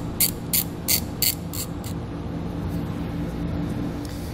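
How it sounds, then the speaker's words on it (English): A ratchet with a 10mm socket tightening a panel bolt on a vehicle: five quick, crisp clicking pulls in the first two seconds, then only faint background hum. "I'm gonna take a 10mm socket."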